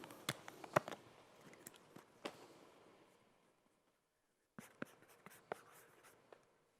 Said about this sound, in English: go ahead and sign your name across the face of the card